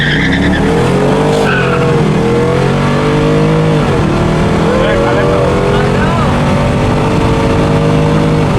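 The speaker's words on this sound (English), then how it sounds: "it's gonna be a nitrous truck versus a 392 Hemi" A nitrous-fed 5.3 truck races a 392 Hemi, engines roaring loud and close with rising revs through gear changes and some tire skid, under a constant wash of noise and voices.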